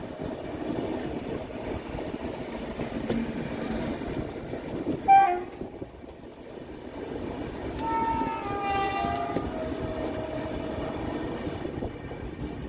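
The Barbil Jan Shatabdi Express runs along with a steady rolling rumble, then gives one short loud horn blast, followed by a long, thin wheel squeal that drifts and fades.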